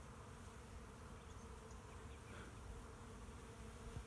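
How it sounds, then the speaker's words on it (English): Faint, steady buzzing of honeybees hums close by, a soft continuous drone with slight wavering in pitch. "Bees. The North American honeybee."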